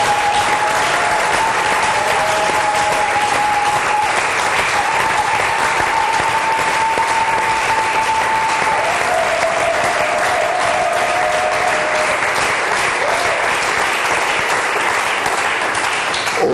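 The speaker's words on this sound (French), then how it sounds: "nous commençons par des acclamations, mais des acclamations nourries" Sustained, loud applause from a church congregation, a steady roar of many hands clapping throughout, with faint tonal acclamations or cheers riding on top.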